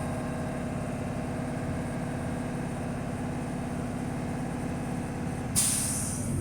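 A bus idles with a low, steady engine rumble while its air brake tanks refill, then a sharp, loud hiss of released air bursts out near the end and trails off.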